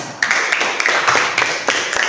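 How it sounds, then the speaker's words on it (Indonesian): An audience claps at a school group presentation, a steady patter of hand claps of moderate loudness continuing for a couple of seconds without talk. "Berikan aplaus tepuk tangan"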